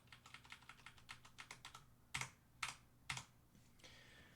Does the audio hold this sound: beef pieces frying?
no